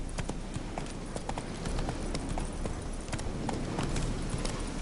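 Roach, a horse in The Witcher 3, gallops with rapid, steady hoofbeat clip-clops at moderate level, with a faint voice underneath.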